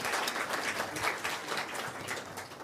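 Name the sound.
audience applause for event sponsor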